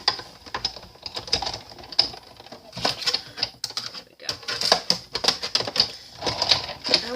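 A card run through an embossing machine makes rapid irregular clicking and crunching, like busy typing, close and fairly loud with short pauses.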